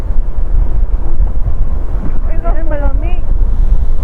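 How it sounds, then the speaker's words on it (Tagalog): Steady wind buffets the microphone with a low, rumbling roar during a motorcycle ride on an ADV160 scooter near Tagaytay, while a voice speaks briefly over it. "Sarap naman kasi yung hangin."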